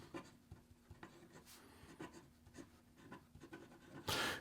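Quiet scratching of a Xezo Maestro fountain pen's medium stainless steel nib writing on paper, with soft strokes and pauses in an irregular rhythm, close and faint, ending in a brief louder rustle.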